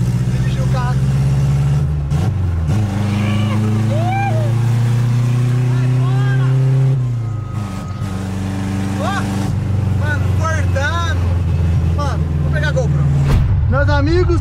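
A Chevrolet Chevette drives off with its engine droning close by and rising through the gears, while people talk over it throughout.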